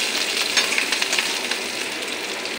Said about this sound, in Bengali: পেঁয়াজ আর কাঁচা লঙ্কাটা ভাজা ভাজা হয়ে গেছে